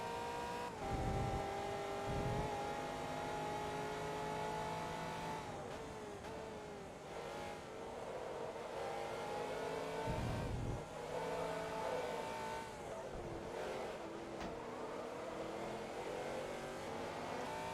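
Ferrari race car engine in Forza Motorsport 2 revving hard close behind, a loud sustained whine rising and dropping through gear changes with brief tire squeal, several other cars roaring nearby throughout.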